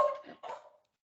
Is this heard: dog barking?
yes